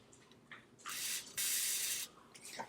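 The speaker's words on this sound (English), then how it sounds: "Spray some on." WD-40 is sprayed onto a shoe in two short hissing bursts close to the microphone, the second slightly longer, followed by faint handling sounds.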